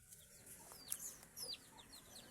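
Pet chickens clucking softly after feeding in a backyard, a few short overlapping clucks and chirps at moderate distance over faint background noise.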